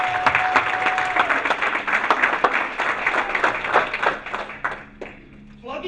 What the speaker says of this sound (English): Let's give every single one of you a round of applause